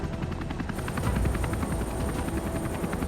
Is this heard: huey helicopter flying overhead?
yes